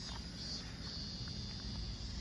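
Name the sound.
cicadas chirping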